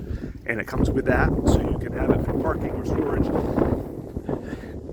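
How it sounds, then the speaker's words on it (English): Gusts of wind buffet the microphone outdoors beside a house with a one-car garage in Bangor on a windy day, rumbling steadily under someone speaking. "Excuse the wind, it's a windy day."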